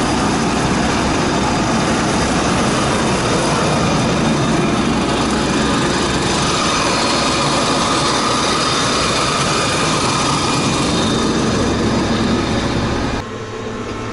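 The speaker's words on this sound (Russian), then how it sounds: "Чисто шум двигателя." A Kirovets K-525 tractor engine runs unloaded with a loud, steady, droning roar and no change in pitch, then drops in level abruptly near the end.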